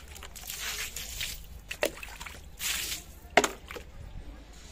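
Water splashes and sloshes across a dirty rooftop being washed, with intermittent hissing gushes and a few sharp slaps of thrown water, close by and fairly quiet.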